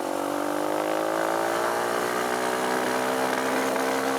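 Kawasaki KLX140 dirt bike engine on partial throttle, a loud continuous buzzing rasp close by with faint unevenness in its pitch, no talking over it.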